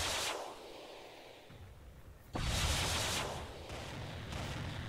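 Autocannon fire in the mech combat game MechWarrior 3, heavy repeated blasts rumbling in sustained bursts, moderately distant and fairly quiet, with no talking over it.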